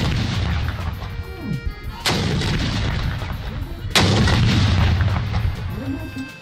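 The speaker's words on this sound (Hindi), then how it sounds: "पाक फौज के चाको चौबंद दस्ते ने तोपों की सलामी दी।" Two booming cannon shots of an army ceremonial salute in Lahore, each a sharp loud blast with a rolling echo, spaced about two seconds apart over outdoor background noise.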